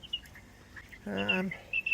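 Backyard birds calling, with a few short chirps early on and a brief louder burst of calls near the middle, fairly close over a quiet background, with no talking.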